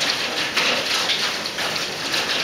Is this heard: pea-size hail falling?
yes